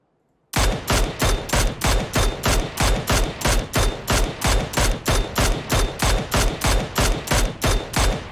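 Rapid automatic gunfire from an MK-type rifle in the video game PUBG, a loud, steady stream of evenly spaced shots lasting several seconds with no talking.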